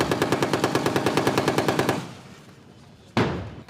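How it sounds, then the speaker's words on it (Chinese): A machine cannon fires in a fast, loud, evenly spaced burst of around twenty rounds during the Han Kuang 39 military exercise, then the echo rolls away before a single further heavy boom lands. "2控机炮火力压制，阻挡敌人继续爬过来"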